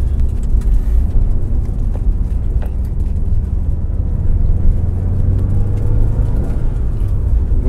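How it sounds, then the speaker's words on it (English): A Subaru STI on newly fitted KW V3 coilovers pulls away with a low, steady engine rumble and road noise from inside the car, loud and continuous throughout. "Setting off for the first time with the KWV3 coilovers."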